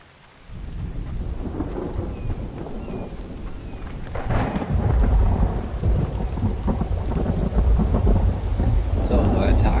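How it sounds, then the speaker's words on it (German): Heavy rain pours steadily in the video game The Infected while thunder rumbles and swells, the downpour loud and continuous with deep rolling booms building toward the end. "draußen regnet es"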